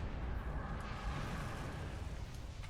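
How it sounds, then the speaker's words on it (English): Starship torpedo launchers firing and explosions in the space battle game Star Trek Online, heard as a dense, continuous low rumbling roar with no voices over it. "Bring our torpedo launcher to bear"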